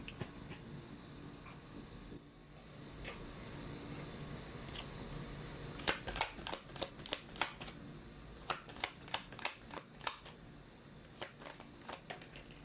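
Tarot cards are shuffled and drawn by hand against a faint background hiss, with a quick run of crisp riffling clicks in the middle of the clip.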